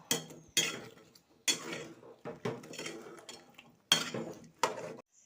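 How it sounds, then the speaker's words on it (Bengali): Washed pots, plates and cutlery are handled and stacked away in a home kitchen, a series of sharp clinks and clatters in separate bursts with short pauses between, close and fairly loud. "রান্নার ফাঁকে যত এত বাসন কোসন ছিল সব ধুয়ে নিয়েছি এগুলো এখন গুছিয়ে রাখবো"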